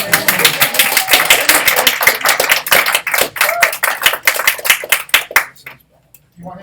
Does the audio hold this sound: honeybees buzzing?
no